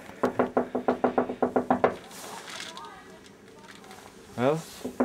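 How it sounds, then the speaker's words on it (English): A rapid series of about a dozen firm knocks on a door raps out evenly for two seconds, loud and near, followed by quiet room tone and a brief voice. "Okay, knock."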